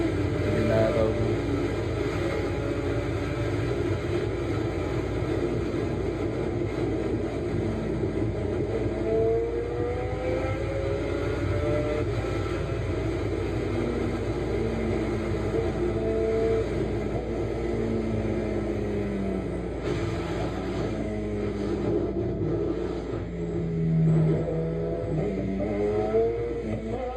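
A Yamaha big bike running at high speed, a loud sustained engine drone with rising and falling pitch as it accelerates and holds speed, wind roar mixed in and a voice talking over it.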